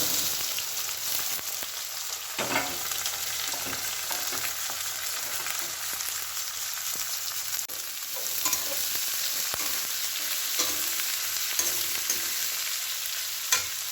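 Onions frying in a pan, a soft steady sizzle with occasional spatula scrapes and clinks, fairly quiet and close, with no voices.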